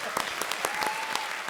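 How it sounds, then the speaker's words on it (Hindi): Studio audience applause on an Indian comedy show, a dense steady burst of clapping filling the whole short moment at moderate level with no talking over it. "हमारे शो पर आए, एक बार जोरदार तालियां।"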